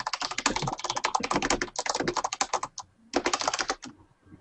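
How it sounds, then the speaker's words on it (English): Rapid, furious typing on a computer keyboard, dense clattering keystrokes running almost continuously with one brief pause, close and fairly loud, no talking. "who's typing so furiously?"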